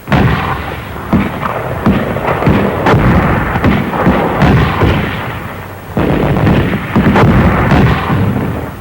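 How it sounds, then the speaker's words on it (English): Mortar fire in a 1944 battle on a coral island in the Marshalls: loud, continuous rumbling barrage with sharp repeated blasts and booms, dense and unbroken throughout. "They covered their advance with mortar fire."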